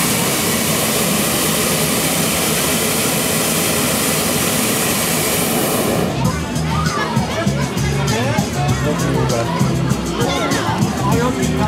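Hot air balloon gas burner firing, a loud continuous roar that fills the first six seconds, followed by a busier, more broken noise with people talking in the background.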